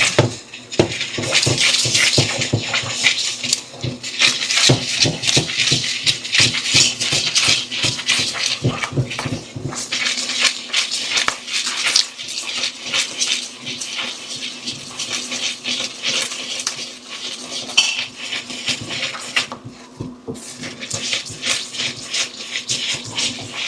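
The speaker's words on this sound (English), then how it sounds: "Now it's time to start mixing." Toffee ingredients being mixed in a bowl or pan, a steady stream of close rhythmic scraping and tapping from a utensil, busier at first and then settling into a more even churn.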